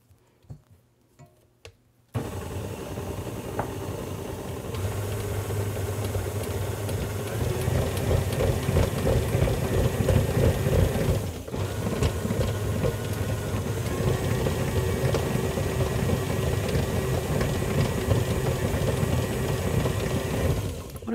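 An electric mixer beats batter with flour in a bowl, starting abruptly after a short quiet moment and then running as a steady, fairly loud whir with a slight ticking rattle, rising a bit midway and holding to the end.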